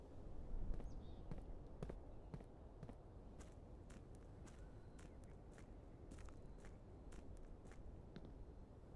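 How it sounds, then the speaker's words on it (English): Footsteps on the ground in the video game Blue Prince, a steady run of soft thuds and clicks sounding at moderate volume over a constant low ambient bed, with no talking. "Can you guys hear the footsteps all right?"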